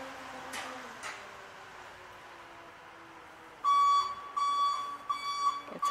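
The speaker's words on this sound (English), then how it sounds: "It's a back up alarm for the trash people." Garbage truck backup alarm on trash pickup day, a series of sharp repeated electronic beeps in bursts arriving after quiet outdoor background with a couple of faint bird calls.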